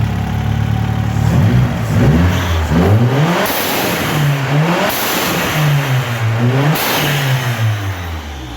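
An Opel Calibra Turbo engine fitted with a blow-off valve revs hard, rising and falling in several loud throttle blips with sharp hissing releases of air between them, close by and without talk.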